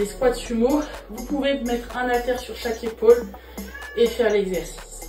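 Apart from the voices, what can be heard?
cat meowing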